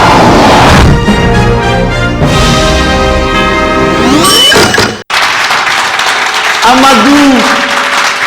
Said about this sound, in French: Sous vos applaudissements, on va se lever pour ovationner le papa.